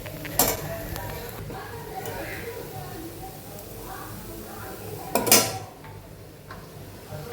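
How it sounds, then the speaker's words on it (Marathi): Leftover upma being reheated in a pan on a home kitchen stove, with two sharp metallic clanks of a spoon against the pan and faint soft stirring scrapes between them. "म्हटलं थोडंसं उपमा गरम करून तुम्हाला दाखवते"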